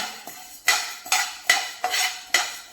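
Coriander seeds roasting over a low gas flame, a spoon scraping and stirring them in a pan with five or six sharp, regular scrapes alone, no voices.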